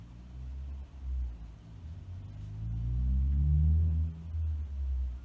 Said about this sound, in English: Sorry, truck going by.